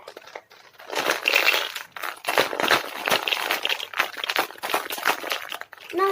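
Dense rattling and crinkling, like small beads or seeds shaken inside a container, played in uneven bursts with brief pauses, fairly close.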